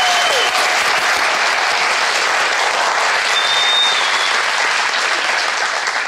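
A studio audience applauds to open a Turkish talk show, a loud, dense, continuous wash of clapping held for several seconds with no voices over it.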